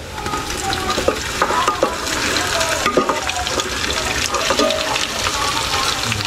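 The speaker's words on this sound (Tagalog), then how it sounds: "okay na po yung bawang sibuyas luya. Lalagay na po natin yung karne. Laman loob." Beef and offal frying with garlic, onion and ginger for papaitan, a loud continuous close sizzle with bursts of stirring and spattering throughout, no talk over it.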